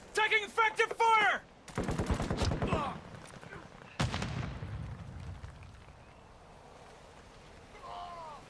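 Gunfire in a Battlefield 3 team deathmatch on the Tehran Highway map, with loud bursts of automatic fire and sharp single shots, mixed with in-game voice callouts and fading into quieter battlefield ambience.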